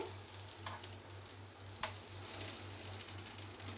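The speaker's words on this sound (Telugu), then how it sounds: "నెయ్యి వేసుకుంటూ కాల్చుకోవాలి, అప్పుడే బాగుంటుంది." A wheat flour and fresh coconut snack frying in ghee in a pan, giving a soft, steady sizzle with faint crackles, heard close and low in level with no voices over it.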